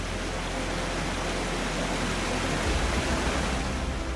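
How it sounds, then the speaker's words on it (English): The Fossa waterfall on Strømøy in the Faroe Islands roars down terraced mountainside cliffs, a dense, steady wash of falling water that stays loud and even throughout, with no voices. "the Fossa waterfall thunders down the mountainside and blankets the surface with"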